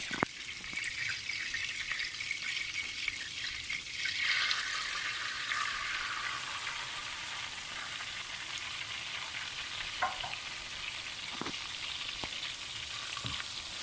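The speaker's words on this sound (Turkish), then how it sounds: "Sonra kavrulana kadar, rengi dönene kadar karıştıracağız." Semolina toasts in hot oil for a milk semolina halva, a steady close sizzle and frying hiss throughout with a few faint clicks of stirring.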